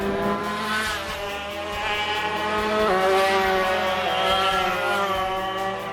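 Racing karts at Bushy Park, Barbados, send out a buzzing, high-revving engine drone whose pitch rises and falls as the karts accelerate and brake through the corners, heard from trackside at moderate distance.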